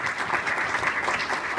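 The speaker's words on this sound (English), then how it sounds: "Let's give him a round of applause." A city council candidate forum audience claps in a brief, dense burst of steady applause, many hands together at moderate loudness.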